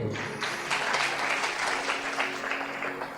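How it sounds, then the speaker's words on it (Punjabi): A congregation at a sermon bursts into loud, dense clapping that holds steady for a few seconds, many hands together filling the room. "ਤਾਲੀ ਮਾਰੀਏ ਜ਼ੋਰ ਦੇ"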